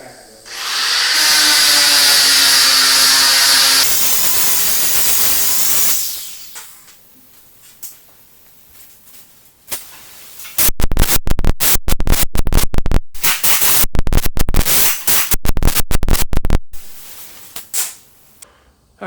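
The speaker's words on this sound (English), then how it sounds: "It won't take much grinding. I'm just gonna do a little quick cleanup." An angle grinder cleans up welds on a curved metal sofa table, first as a loud steady whine for several seconds. After a quiet gap it gives way to a burst of sharp, loud irregular hits, like hammering on metal.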